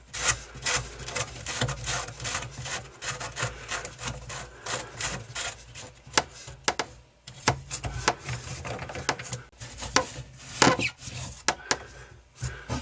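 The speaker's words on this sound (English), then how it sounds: "we just need to continue to loosen the upper nut here" A wrench works the upper nut of a bathroom faucet, making close, irregular scraping and ratcheting clicks and rubs in short uneven bursts, without talk.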